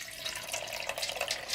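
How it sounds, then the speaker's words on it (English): Water is gently dumped out through a small strainer to catch soaked cannabis seeds, a close continuous splashing trickle with steady bright patter throughout and no talking. "So I'm basically just going to take a strainer and just very gently dump the water out"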